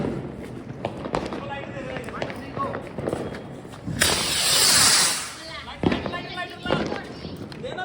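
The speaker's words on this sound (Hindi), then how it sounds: "आतिशबाजी होने लगी है इधर।" Diwali fireworks and rockets going off outdoors, with sharp bangs and crackles scattered throughout and a long rising whoosh of a rocket in the middle, while people talk and shout excitedly nearby.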